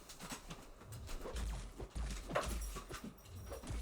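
A pet dog moving about indoors, with soft scrabbling, paw taps and faint whimpering sounds near the microphone under low background noise from a running game.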